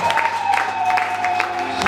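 A church congregation at a prayer conference in Dodoma claps together in praise of Jesus, a dense, loud ripple of applause carried over a sustained tonal background hum or music.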